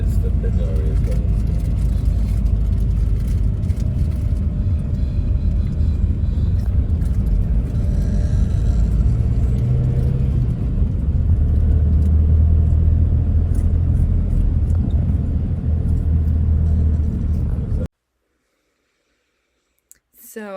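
A car drives along a road in Wales with a steady low engine and road rumble from inside the cabin, continuous and fairly loud before cutting out abruptly near the end, with soft voices over it.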